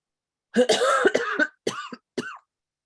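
A close, raspy coughing fit: one long rattling cough followed by two shorter, hoarse coughs trailing off, with silence around them.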